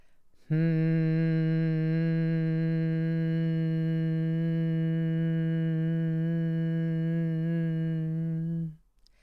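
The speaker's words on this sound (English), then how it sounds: "Close your lips and make a low, steady sound hum." A single person hums one low, steady note with closed lips for about eight seconds, a rich, even drone that starts abruptly and fades out at the end, close and clear.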